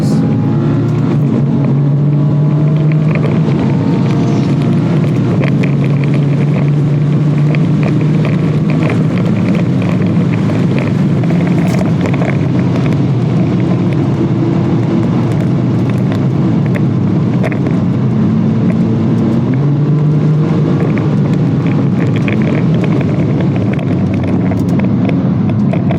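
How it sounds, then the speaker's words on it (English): A BMW F80 M3 at full throttle on a Sydney Motorsport Park track night, its engine roaring loud and continuous from inside the car, with gear changes stepping the pitch up and down across the lap. "Coming in really hot for our first lap in the F80 M3"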